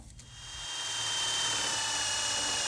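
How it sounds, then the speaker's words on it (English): Power drill boring holes through the metal box in the bed of an '88 K5 Blazer, a steady loud whine building up in the first second and then holding on without break, with no talk. "we needed to drill a couple holes in the back of the box"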